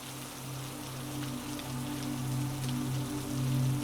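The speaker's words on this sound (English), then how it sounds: "the sound of rain" Rain falls on cobblestones in Paris at night, a soft continuous patter of drops under a low steady hum, gradually swelling a little louder toward the end with no voices.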